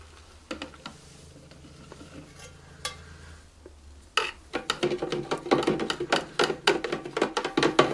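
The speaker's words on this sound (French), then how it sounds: "Et on n'oublie pas de mélanger." Glycerine bubble-solution mixture being stirred in a container, a quiet stretch of faint scrapes giving way to a dense run of close, repeated clinking and swishing strokes.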